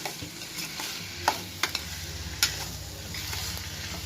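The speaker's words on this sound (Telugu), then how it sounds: "ఇప్పుడు కొంచెం బాగా మగ్గించుకోవాలండి ఆనియన్స్ని." Sliced onions with salt sauté in a pan with a soft, continuous sizzle, punctuated by a few sharp clicks of a spoon scraping and stirring against the metal.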